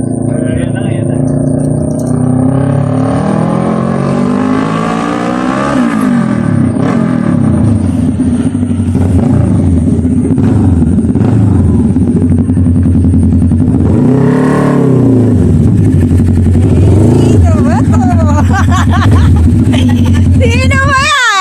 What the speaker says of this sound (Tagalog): Apakaingay naman ng motor niyo.